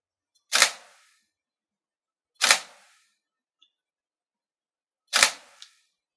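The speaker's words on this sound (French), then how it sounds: "À chaque fois que vous allez vouloir prendre une photo, il faudra presser votre déclencheur." Shutter release of a reflex camera in single-shot mode, three separate crisp clicks spaced about two seconds apart, close and clear against silence.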